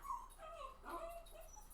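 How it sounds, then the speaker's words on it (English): A pet dog whimpers softly for a moment. It sounds near but quiet, with a high, thin whine and no talking over it. "And that is my dog, Coco."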